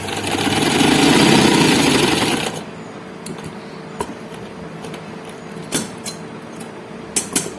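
A sewing machine stitching the side seams of a frock whirs loudly and steadily for about two and a half seconds, then stops, leaving quiet room tone with a few soft clicks and taps.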